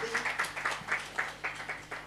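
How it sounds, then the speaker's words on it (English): Scattered applause from a small audience at a Father's Day event, with a few irregular claps that are moderately faint and brief. "A round of applause to Sandra."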